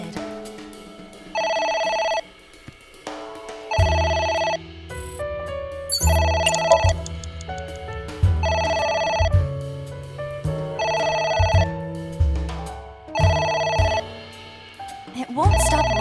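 A telephone ringing in the video game AI: The Somnium Files, a loud electronic ring repeating in regular bursts with short gaps, a low musical score underneath throughout.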